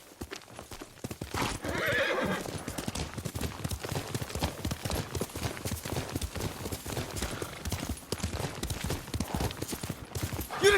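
A horse in the video game Ghost of Tsushima whinnies loudly near the start, then its hooves clop in a steady, close, rhythmic beat that carries on to the end.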